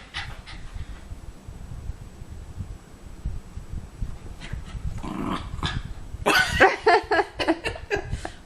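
A dog growls and snarls playfully at close range, with panting and a few short barks near the end.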